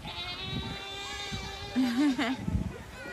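Goat bleats several times in quick wavering calls at a pumpkin patch farm, fairly close and clear over a steady murmur of background voices and crowd noise.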